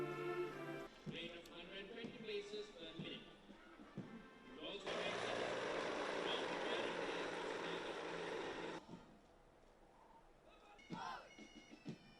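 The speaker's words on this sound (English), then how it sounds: "A flypast was conducted along the 4 Bell 412 type helicopters in parallel to the parade." Four Bell 412 helicopters roar past at close range during a parade flypast, a loud sustained whir building and then fading, with voices and crowd noise before and after.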